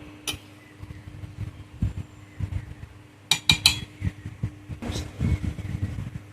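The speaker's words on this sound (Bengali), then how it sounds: "ভেজে রাখা পেঁয়াজ বেরেস্তা দিয়ে দিলাম এটা একটু নেড়ে নিলাম" Fried onion birista being stirred in a metal pot, with a ladle scraping and clinking in irregular bursts and several sharper metallic knocks partway through, close up over a quiet background hum.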